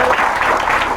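Crowd clapping at an Independence Day village gathering, a brief loud burst of applause lasting about a second, close and dense.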